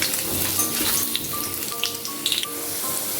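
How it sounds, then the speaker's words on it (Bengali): Long strips of potato fry in hot oil in a pan, giving a steady, close sizzle with scattered crackles and pops throughout, heard alone without talk. "প্রথমে আলুটা ভেজে নিচ্ছি আলুগুলো এরকম লম্বা লম্বা করে কাটতে হবে"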